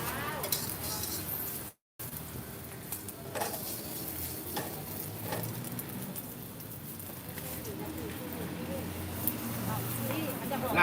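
Vegetables for a Thai omelet are stirred in a hot pan, a continuous close sizzle with scraping and clinks from the utensil, while people talk over it throughout.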